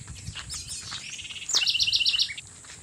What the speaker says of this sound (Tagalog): huni ng ibon.